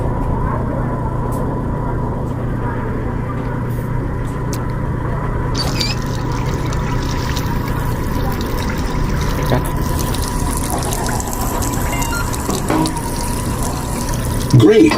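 Water runs from a sink tap into a pot in a VR cooking game, a steady broadband rush that continues under the whole stretch alongside a constant low hum.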